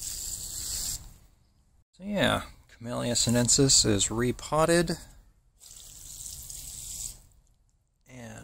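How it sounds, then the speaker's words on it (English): Water pours from a can onto a tea plant (Camellia sinensis) freshly repotted in coconut coir, a soft steady splashing hiss before and after a stretch of close speech. "I'm just gonna water it in and then wait a little bit and water it in again"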